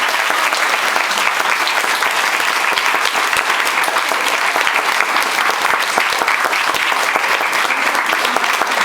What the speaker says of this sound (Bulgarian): Благодаря ви за аплодисментите